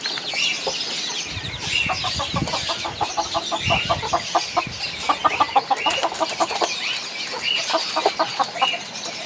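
Caged chickens and other fowl clucking and chattering close by in a busy, continuous flock while rice is scattered for them at morning feeding time, with occasional thumps and rustles in the cage.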